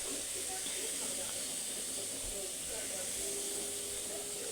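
Fish sizzle in a pan with a little oil, a steady, bright hiss of frying that stays even and close throughout, with faint voices underneath.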